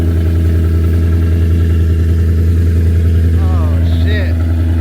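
A Ford Mustang S650 idles close up with a deep, steady exhaust rumble that holds level throughout, while people talk over it.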